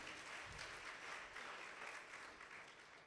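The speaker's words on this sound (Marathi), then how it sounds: "जोरदार टाळ्या व्हायला हवेत त्यांच्या स्वागतासाठी" Audience applause welcoming the chief guest at a Guru Purnima programme of an educational institute, a dense steady clapping that fills the hall continuously and fairly distantly for about three seconds without pause.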